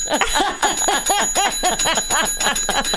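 A bell is rung quickly over and over, a dense run of bright, ringing strikes about every quarter second that stays loud and close for the whole stretch, with no voices over it.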